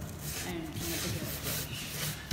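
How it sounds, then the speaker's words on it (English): Coarse brass wire brush scrubbing a Sapelli mahogany bungalow door during paint stripping, a steady close rasping rub with continuous back-and-forth strokes. "with an outside deck, we use this slightly coarser brush, the brass one"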